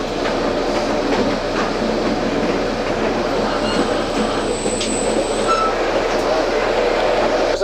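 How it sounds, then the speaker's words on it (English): Narrow gauge railway train running on the line from Hekou to Kunming in China, a steady, continuous rumble of wheels and carriage with faint clatter and a brief high squeal, heard from on board. "I wanted to take this train ride. This is on the narrow gauge railroad."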